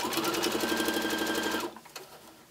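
A sewing machine stitches a quilt seam under the presser foot, a close, fast, even whirring run of needle strokes that stops abruptly, followed by a couple of faint handling clicks.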